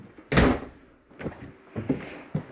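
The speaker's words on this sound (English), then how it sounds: "And close this door." An RV bathroom pocket door in a 2022 Forest River XLR Boost 36TSX16 slides shut with one firm thud, followed by a few lighter knocks and rattles as it settles, close by, with no one speaking.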